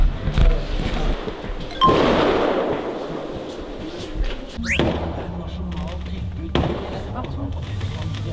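Fireworks going off over a Norwegian Arctic city on New Year's Eve near a cable car station, with a few sharp bangs and thuds rising out of a continuous outdoor rumble and voices.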